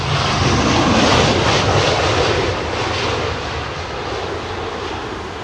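A jet airliner roars steadily at London Heathrow Airport on a windy day, a loud broadband rumble that fades slightly toward the end, with no voices.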